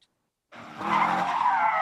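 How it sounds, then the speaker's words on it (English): Cars doing donuts on an asphalt skid pad, tires screeching loudly with engine revving underneath, bursting in after a short silence and holding a sustained squeal. "Revving engines and screeching tires."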